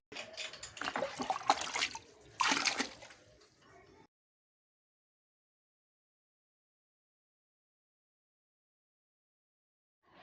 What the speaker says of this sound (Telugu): ఏ చెట్టునైనా మారుస్తే నీళ్లు పోయాలి మార్చేగానే. సో ఇప్పుడు పోద్దాం.